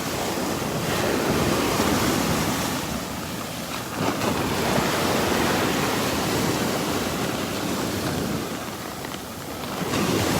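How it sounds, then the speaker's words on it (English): Ocean waves crash steadily onto the beach at Delnor-Wiggins, a loud, continuous surf roar with rolling swells and wind buffeting the microphone. "look at those waves crashing into that dead tree up there"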